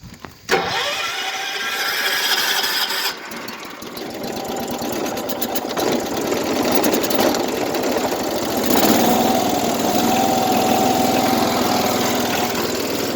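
A Sears lawn tractor engine cranks with a sharp start, then keeps running at a steady, loud, buzzy idle that rises slightly in pitch partway through, with no talking.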